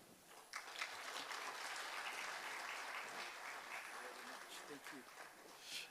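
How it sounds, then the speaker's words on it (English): A conference audience at an African Union men's gathering on positive masculinity breaks into steady applause, a dense wash of clapping that swells and holds for several seconds at moderate distance. "Let's give them another round of applause"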